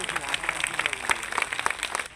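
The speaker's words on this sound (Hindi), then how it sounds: "उनका जोरदार तालियों से स्वागत किया जाए" An audience applauds to welcome a guest at the office inauguration of a Bhim Nagari festival, a short run of scattered, fairly close hand claps of moderate loudness.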